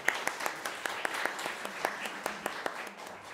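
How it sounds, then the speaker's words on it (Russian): Audience applause at a children's concert of Nadya's Tales, music by Falik and Slonimsky, a steady moderate wash of clapping with a few sharper individual claps standing out, fairly close and continuous for the whole stretch. "Аплодируем всем."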